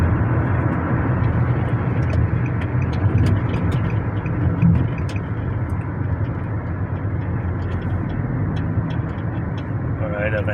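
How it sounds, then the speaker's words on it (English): A 2010 Nissan Altima with a CVT transmission that slips and revs high accelerates with the gas pedal half pressed, giving a continuous engine and road drone from inside the car, with no distinct gear shifts. "I'm halfway, I'm pushing down the gas pedal. You do not even feel so much of a change of gear because of CVT transmission."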